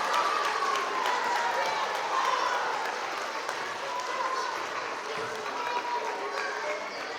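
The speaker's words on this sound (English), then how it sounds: "Let's give a big round of applause to Katie and Mayor Johnson." Sustained crowd applause at an outdoor Earth Day event in Hudson, New York, honoring Katie and Mayor Johnson, a steady wash of clapping with light cheering that holds evenly from start to finish.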